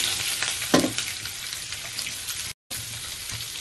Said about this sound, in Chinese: 个镬热咧放油，放啲虾落去